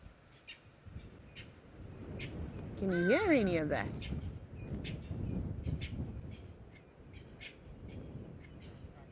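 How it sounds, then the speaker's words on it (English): Wild birds call at sunrise on a safari drive, including a loud hadeda ibis and Natal spurfowl, with repeated harsh, braying calls rising over a dense chorus of other birds, while a person speaks briefly. "There's a hardy dar shouting in the background, and I think it's Natal Spurfowls that are also shouting."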